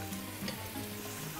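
Battered banana fritters sizzle steadily in hot frying oil, a dense, continuous crackling hiss with small bubbling pops, close and fairly loud with no voices.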